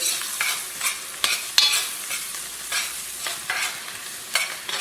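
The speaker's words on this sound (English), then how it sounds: "We're going to stir this in good" Flour is stirred into vegetables sizzling in a pan for chile relleno sauce. A steady close frying hiss runs throughout, with a spoon scraping and clacking against the pan every second or so, and no talking.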